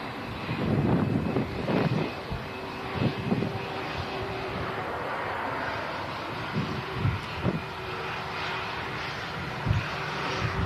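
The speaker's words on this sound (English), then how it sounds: "Lufthansa A321. Taxiing past the RVP at the moment." A Lufthansa Airbus A321 airliner taxiing at Manchester airport gives a steady, broad jet engine roar heard from a distance outdoors, with wind buffeting the microphone throughout.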